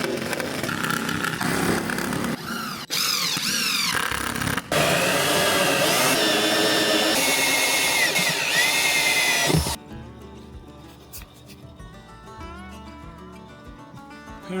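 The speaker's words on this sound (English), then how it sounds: "Alright, I started cutting the old vent pipe out." A power tool cutting out an old vent pipe during a laundry room renovation, heard as a loud, close, sustained whine that shifts in pitch and then cuts off sharply, leaving a quieter hum.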